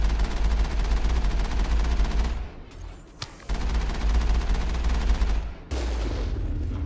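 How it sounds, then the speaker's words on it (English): Vehicle-mounted cannon fire from the Mass Effect video game hammers out in a dense, continuous barrage of heavy booms, briefly dropping out for a moment before the rapid firing resumes at full loudness. "Oh, I really like that cannon."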